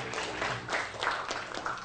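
A classroom of students claps for a classmate after a civics discussion, a short burst of scattered hand clapping that swells and dips, fairly close and unaccompanied by speech.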